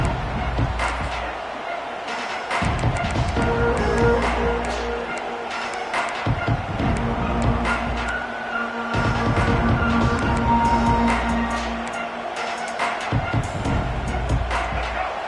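Stadium crowd noise from a Madden or NCAA college football video game, a steady roar of fans that rises and falls in waves under a commentator's play-by-play.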